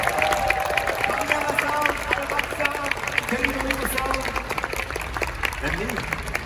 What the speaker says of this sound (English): everyone, a big round of applause for all our guests